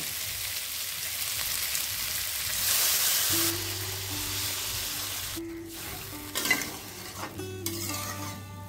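Water is poured into frying katla fish curry with radish and potato, giving a loud rushing hiss that swells over the sizzle, then settles into a quieter bubbling simmer with a low steady hum and a few clinks.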